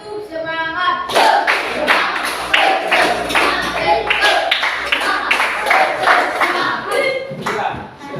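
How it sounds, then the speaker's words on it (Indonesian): A school class performs rhythmic spirit clapping in quick unison bursts, sharp and close, grouped in patterned counts, with children's voices chanting along. "Sekali tepuk semangat. Dua kali tepuk semangat. Tiga kali tepuk semangat."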